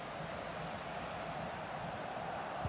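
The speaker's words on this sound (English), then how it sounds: "The crowd urging him to shoot" Stadium crowd roar from an FC 24 football match, a steady, dense wash of broadband noise with no distinct chants or peaks, continuous and fairly loud throughout.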